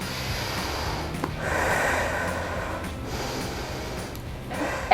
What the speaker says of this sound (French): On prend 2 bonnes respirations et on prend une pause.